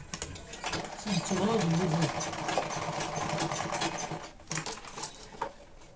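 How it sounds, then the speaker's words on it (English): A sewing machine stitches down the closing side of a foldable fabric lunch box, running in a steady mechanical whir for a few seconds, with a voice speaking over it. "So now I've sewn it down."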